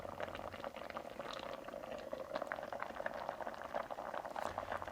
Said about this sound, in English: Keep the heat to where it is simmering.